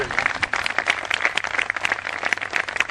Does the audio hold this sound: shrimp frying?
no